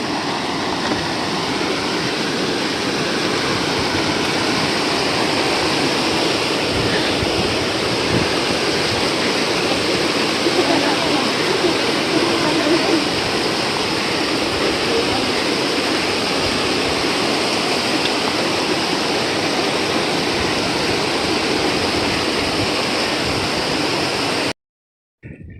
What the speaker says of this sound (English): Beautiful waterfall up there coming off the mountain.